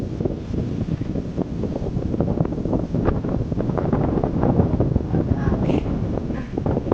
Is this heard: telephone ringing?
no